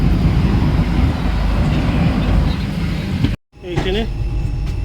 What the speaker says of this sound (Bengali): আমাদের ট্রেন 4 মিনিট লেটে পুরী স্টেশন থেকে ছেড়ে দিল